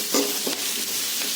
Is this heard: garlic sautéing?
yes